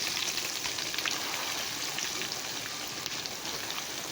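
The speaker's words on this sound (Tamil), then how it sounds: "இது பொரிஞ்சோன்னா கட்லட் ரெடி" Tapioca cutlets coated in egg and breadcrumbs fry in hot oil, giving a steady, close, dense sizzle that stays even throughout with no talking.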